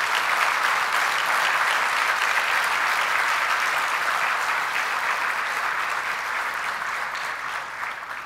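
Sustained, dense applause from a large audience at an education festival keynote, honoring the country's armed forces, loud and steady throughout before easing slightly toward the end.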